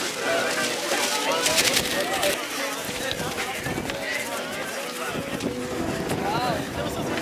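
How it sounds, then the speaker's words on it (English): Wind gusts across the crater rim of Mount Batur, a volcano in Bali, Indonesia, a loud, steady rushing buffet against the microphone, with people talking over it. "Oh, it's getting windy."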